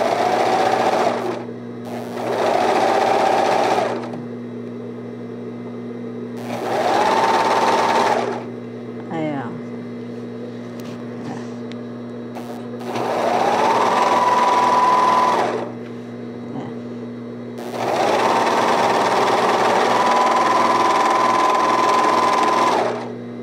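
A sewing machine runs in bursts of a few seconds each as a simple blouse is stitched into a dress, loud and close, with short pauses between runs and someone speaking Spanish in the gaps.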